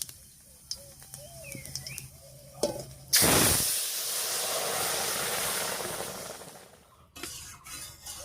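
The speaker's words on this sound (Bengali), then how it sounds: "ফোড়নটা ভাজা হয়ে গেছে। এবার নামিয়ে রাখা শাকটা দেবো।" Bottle gourd greens hit hot oil tempered with black cumin and radhuni, bursting into a loud close sizzle that hisses steadily for several seconds, then fades, with quieter kitchen clatter before and after.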